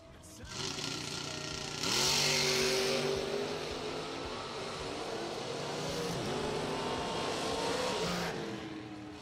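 A Chevy S10 and a 1969 Firebird race down a drag strip, loud engines roaring and revving as they pass, the noise swelling and then easing over several seconds.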